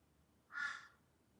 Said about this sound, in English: you hear the crows every day